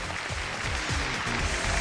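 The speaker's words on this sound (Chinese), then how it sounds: "掌声有请这一队" A studio audience on a Chinese dating and relationship show applauds to welcome a couple onto the stage, a dense, steady wash of clapping that holds at an even level for the whole stretch with no voices.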